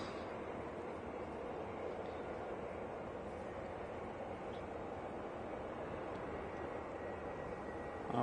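A Boeing 757 airliner in Jet2.com livery at Manchester Airport gives off a steady, broad jet-engine roar that holds at an even level throughout, distant and unbroken, with no voices.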